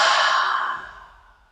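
A long, breathy exhale releases a held breath during yoga practice, loud and close at first, then trailing off softly as the air runs out.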